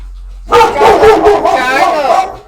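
A dog barks loudly and close in a rapid burst of several sharp woofs and yips, agitated by nearby fireworks, with no other sound alongside.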